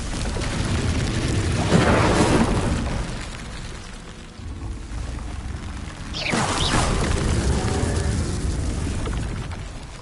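Incendio fire spell cast in Hogwarts Legacy, two loud whooshing bursts of flame with a rumbling crackle, separated by a short lull, no talk.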